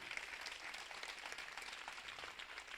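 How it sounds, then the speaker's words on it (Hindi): An audience at a youth empowerment program session claps to welcome a speaker, a dense, even patter of applause heard at a distance and steady throughout. "हम उसको सब तालियों के साथ अभिवादन करेंगे, वेलकम करेंगे"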